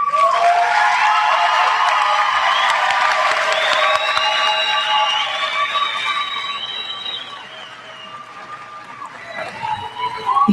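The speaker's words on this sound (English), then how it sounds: "let's give our graduates another round of applause." A commencement crowd gives the graduates sustained applause with cheering at WVU Tech, loud and steady at first, then thinning out before a fresh burst near the end.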